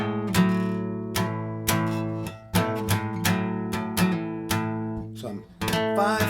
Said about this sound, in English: I'm going to play a G and have it drone the entire time